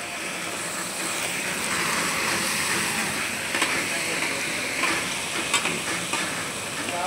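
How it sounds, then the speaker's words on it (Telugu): Peanuts, coriander seeds and green chillies roasting in a pan, giving a steady sizzling, crackling hiss with occasional stirring scrapes, continuous and fairly close. "ఇప్పుడు పల్లీలు, ధనియాలు, పచ్చిమిర్చి రోస్ట్ అవుతున్నాయి"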